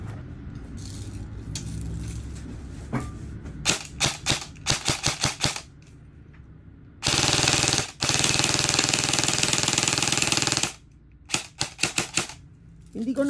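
Budget airsoft AEG rifle test firing, with several short bursts of rapid clattering shots alternating with two long sustained full-auto strings, close and loud, separated by brief pauses.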